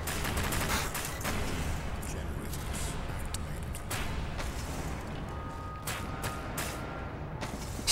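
Rapid gunfire from SCP: Secret Laboratory, dense bursts of shots cracking continuously and loudly over the whole stretch, with mechanical clatter and a voice talking underneath.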